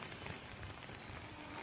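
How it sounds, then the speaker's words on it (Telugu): Heavy rain from Cyclone Montha patters steadily on a terrace and its surroundings, a faint, continuous wash of drops with no voices. "వర్షం మాత్రం కెమెరాలో క్యాప్చర్ అవ్వట్లేదు, కానీ సౌండ్ మాత్రం వినిపిస్తుంది."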